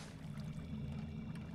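Water flows steadily in the video game Minecraft, a soft continuous trickling wash at low volume with no voices over it.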